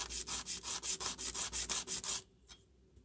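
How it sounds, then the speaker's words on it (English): A broken Jinhao 599 fountain pen grip rubbed on an emery sheet, quick rhythmic scratchy strokes close up for about two seconds, then stopping with one faint final scrape. "Hold exactly perpendicular to the emery sheet."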